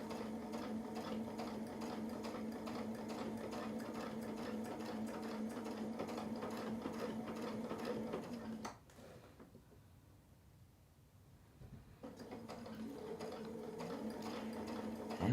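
A sewing machine stitches quilting fills along a Westalee brick template with a steady, rapid mechanical whirr. It stops for a few seconds, then starts again at the same even pace.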